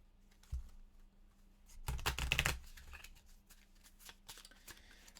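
Game cards being shuffled on a table for a solo board game of The Initiative: soft riffling in a quiet room with an isolated tap near the start and a denser, louder burst of card flutter in the middle.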